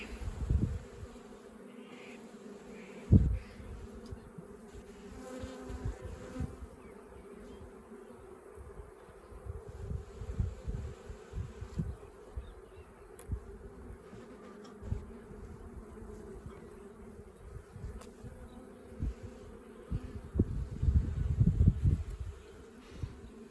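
Honeybees buzz steadily in an open hive during a brood inspection, a dense close drone that rises and falls, with occasional louder passes and knocks near the frames.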